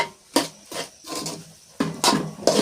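Cooking pot stirred continuously with a spoon, producing irregular scraping clatters and knocks against the metal sides at close range, with brief quiet gaps between strokes and no talking.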